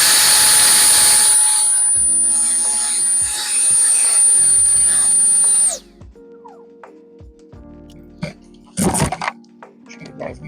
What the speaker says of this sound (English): So if I just hold down the regular trigger, it turns on the blower.